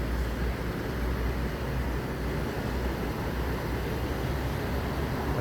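LS Bus Legend, a Sumatran intercity bus in an old green and blue livery with a 1526 engine, fully loaded with passengers and cargo, idles with a steady low rumble against constant road noise, with no talk.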